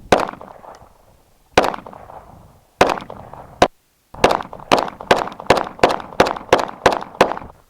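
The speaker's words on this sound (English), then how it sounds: "I'm gonna shoot it 14 more times in the same spot" 6.5 Creedmoor rifle rounds striking armored glass, a rapid string of loud, sharp cracks: a few spaced shots first, then about ten in quick, steady succession, with no talk.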